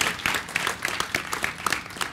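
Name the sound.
audience applause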